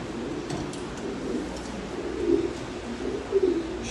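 French meat pigeons in a loft coo softly, low murmuring calls rising twice over a steady background hum, with no talk.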